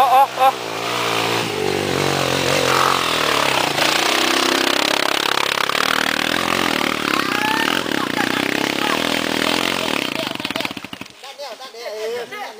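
A motorcycle engine revs and accelerates loudly and close, with a rising whine held for several seconds before cutting off, as people shout over it.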